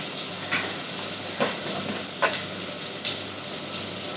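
Mustard seeds and fennel seeds sputtering in hot oil for a prawn curry: a steady frying hiss broken by sharp crackling pops that come about once a second, close and alone.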